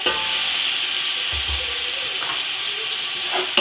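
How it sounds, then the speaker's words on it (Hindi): Ginger garlic paste frying in oil for Chinese fried rice, a steady hissing sizzle at moderate loudness with a couple of soft stirring bumps. "एक मिनट अदरक लहसुन का पेस्ट जो है वो फ्राई हो जाए।"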